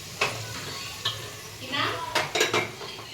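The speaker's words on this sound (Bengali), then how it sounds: "আর এই যে পনির ভাজা হচ্ছে" Paneer frying in a pan for a Janmashtami feast, a soft sizzle under scattered clinks of utensils and stirring scrapes, fairly faint and close.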